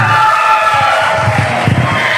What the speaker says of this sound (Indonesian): Tepuk tangannya yang meriah untuk panelis kita